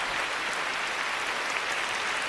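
Dense, sustained applause from a large figure skating audience, an even wash of clapping with no pauses and no voices.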